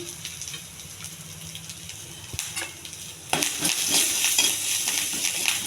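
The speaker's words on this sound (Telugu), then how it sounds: "ఇవన్నీ బాగా వేగాలండి." Chana dal and curry leaves frying in a pan, a quiet crackle that jumps to a louder, brighter sizzle partway through, with a few soft clinks.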